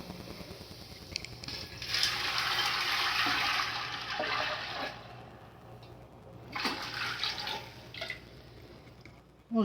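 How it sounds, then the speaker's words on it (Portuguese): Water poured into a pot of tripe with white beans for cooking: a rushing, splashing pour in two main bursts, with a few drips between, close and fairly loud. "Colocar uma quantidade de água."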